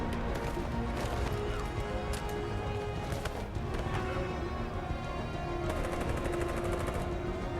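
Gunfire in the video game Detroit: Become Human crackles in rapid automatic bursts over a dense, busy game soundscape, loud and continuous.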